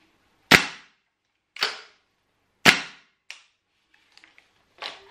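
A VFC HK417 gas-blowback airsoft rifle converted to HPA fires semi-automatic shots without a magazine, five sharp, loud, spaced cracks with small clicks between them.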